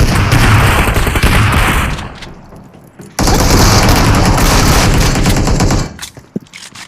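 Gunfire from the mobile battle game BGMI, including a shotgun, comes in dense loud bursts of rapid shots with booming hits, falls briefly quiet, then erupts into another long volley before trailing off.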